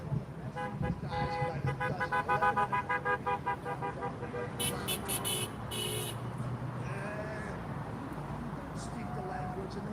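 Car horns honk repeatedly in street traffic at a roadside protest, a rhythmic run of toots in the first few seconds followed by longer blasts, with vehicles passing and people shouting and talking throughout.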